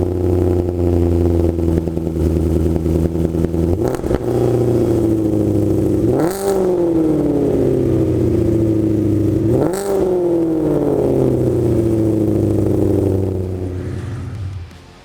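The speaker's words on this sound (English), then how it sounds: "Seriously, that is the toughest sounding Mustang I've heard in many, many years." A Roush-modified Ford Mustang V8 idles with a deep, rough burble, then is revved sharply twice with a few seconds between blips, each rising and falling back before the engine winds down at the end.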